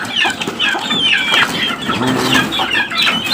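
A crowd of young white chicks peeps noisily and continuously up close, high thin chirps overlapping, with some soft clucking and rustling beneath.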